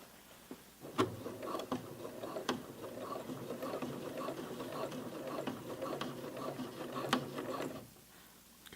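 A home sewing machine stitches a jeans hem in one continuous close run of rapid ticking and whirring lasting several seconds, with a few sharper clicks where the foot meets the thick seam, then stops.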